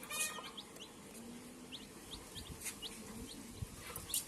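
Village chickens and chicks cluck and cheep softly nearby, with short repeated chirps scattered over a quiet outdoor background.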